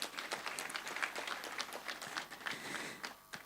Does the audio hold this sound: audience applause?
yes